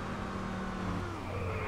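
A car driven in Just Cause 2 gives a continuous engine roar with a gliding pitch, steady and moderately loud throughout, with no talk.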